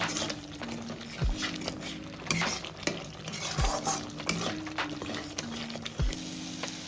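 Fish curry being stirred and fried in a pan, steady sizzling with repeated scraping strokes of the spoon and occasional low thuds, close and continuous.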